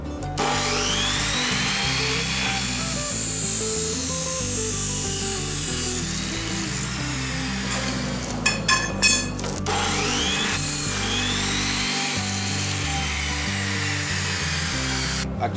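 Sawing through recycled wood boards cut to length in a workshop, a steady, loud, continuous rasping cut that runs the whole clip with a short clattering break around the middle and no talking.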